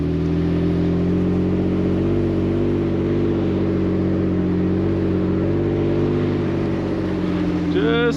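A truck engine chugging steadily while stuck in a ditch, a loud, continuous low drone with a slight wavering pitch, rising briefly near the end.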